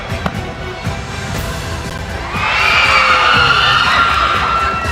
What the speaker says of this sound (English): You heard them scream, right?